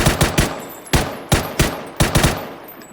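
Loud, close automatic gunfire in PUBG rings out in short bursts of two or three shots with brief gaps, taking down an enemy.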